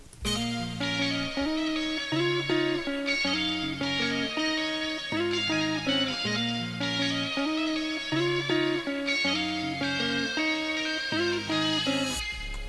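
A guitar plays a repeating melodic loop, notes ringing out with a wide, washy reverb tail that gives a distant, spacious feel.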